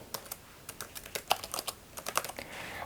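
Keys clatter on a computer keyboard as an Instagram caption is typed, a close run of irregular clicks and taps with brief pauses, no voices.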